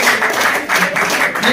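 Steady, loud applause from an award ceremony audience at the All Kashmir Car Cup 2023 event run by a Kashmir pigeon sports club. A dense wash of clapping holds for the whole moment, with a little voice murmur beneath it.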